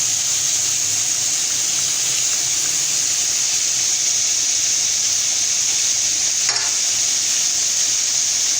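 Lamb ribs frying in a pan, a loud, constant hissing sizzle of fat close up, with a brief scraping sound partway through and no talking.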